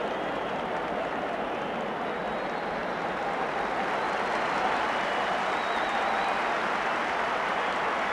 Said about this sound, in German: Und jetzt gibt es zum ersten Mal Beifall auf offener Szene